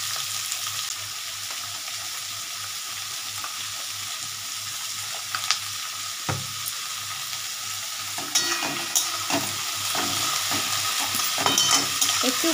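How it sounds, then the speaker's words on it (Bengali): Onions frying in a pan with salt, a steady close sizzle with occasional scrapes and clinks of a spoon stirring, growing busier toward the end. "পেঁয়াজটা একটু ভাজা ভাজা হোক"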